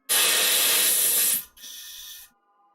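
An airbrush spraying paint onto cosplay armor, a close steady hiss in two bursts, the first loud and longer, the second shorter and softer.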